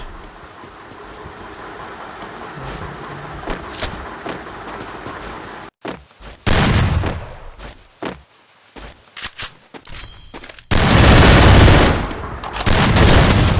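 Gunfire in a shooting video game, starting with a muffled rumble and then sharp, loud bursts and rapid volleys, ending in a dense, sustained blast of shots.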